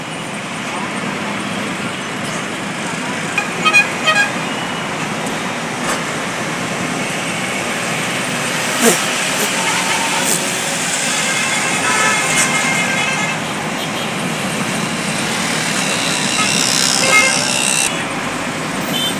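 Congested traffic jam on the Pune–Bangalore highway near Kothrud, Pune: a steady roar of idling and crawling cars and buses with scattered horn toots rising above the rumble, close and continuous.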